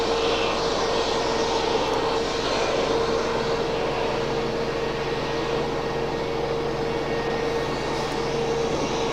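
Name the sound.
UPS Boeing 757 jet aircraft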